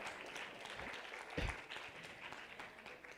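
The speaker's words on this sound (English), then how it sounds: "Please let's give her a round of applause." Audience applause at a launch event, a steady wash of clapping with a brief louder swell near the middle, fairly distant and without talk.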